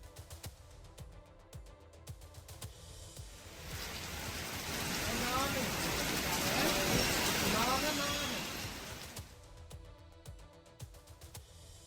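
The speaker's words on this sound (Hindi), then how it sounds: "जहां जोरदार बारिश दर्ज हुई है।" Heavy monsoon rain pours down in Motihari, Bihar, a dense steady hiss that swells loud in the middle and fades out again, with faint background noise before and after.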